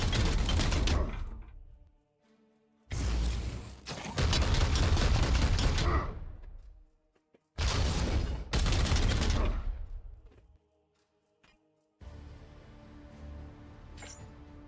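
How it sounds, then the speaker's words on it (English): Weapons fire in a Warhammer 40K video game: loud, dense sustained bursts of gunfire in three long volleys, each cutting off into a short mechanical tail, followed by quieter clanking ambience. "Firing on target."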